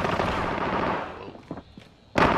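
Bursts of automatic gunfire in Call of Duty Warzone Vanguard on Rebirth Island, a dense rattling barrage at first that thins into scattered shots and then erupts again in a loud close burst at the end.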